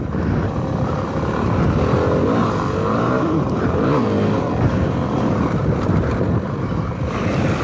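A Yamaha WRF 250cc motorcycle rides steadily, its engine a continuous loud drone mixed with wind rush, with no clear breaks or gear changes.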